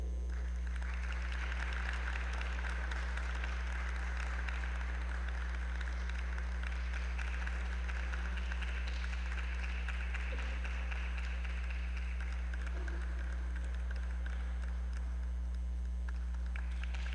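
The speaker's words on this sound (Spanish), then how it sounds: "les pido un aplauso muy caluroso para darle la bienvenida a nuestra artista invitada" An audience at a literary gathering on an anthology of Afro-Mexican Black women writers gives warm, sustained applause to welcome a guest artist, moderately loud over a steady low electrical hum, tapering off toward the end.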